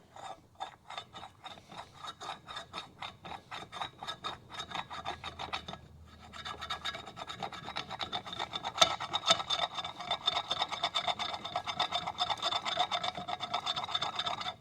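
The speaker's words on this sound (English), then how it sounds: "I'm going to rub the good magnet over the top of it" Rapid rasping scrapes of a magnet dragged over a trailer's electric brake drum surface, a dense gritty metal-on-metal rhythm that grows louder and harsher midway, close up with no speech.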